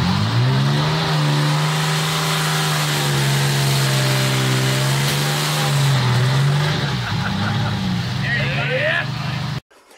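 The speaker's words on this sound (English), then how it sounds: "I did a dyno test on aluminum slant six, and the damn thing blew a head gasket" Aluminum slant six engine on a dyno running hard at a sustained high drone, pitch rising slightly then dipping and wavering near the end before cutting off abruptly, with voices faintly under the roar.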